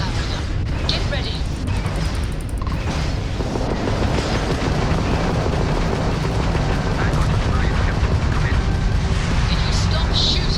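Spaceship weapons fire in the video game Starfield, a dense, loud continuous barrage of blasts and booms mixed with voices talking.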